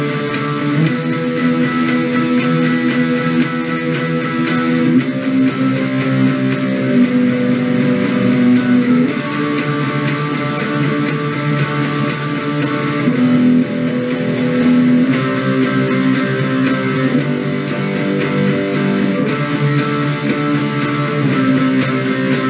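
Guitar plays the chorus of a song: a steady, loud strummed chord progression with changes every few seconds, continuous and alone with no voices.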